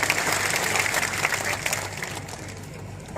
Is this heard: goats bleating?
no